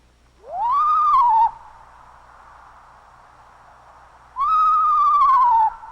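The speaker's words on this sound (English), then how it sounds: "Mice come in sizes just right for screech owls." Two drawn-out, whinnying screech owl calls at night, each rising then sliding down, separated by a few seconds of steady background hiss, clear and fairly close.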